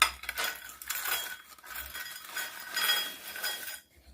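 Crispy fried pasta is tipped and scraped into a bowl, giving a continuous dry rattling and clinking with a few louder bursts, close and fairly quiet, ending abruptly.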